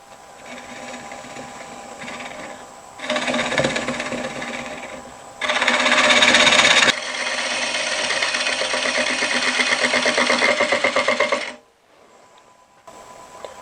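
A wood lathe turning at 500 RPM while a tool cuts a chuck recess into the bottom of an oak bowl, giving a loud, continuous scraping whir that surges for a few seconds and then drops away near the end.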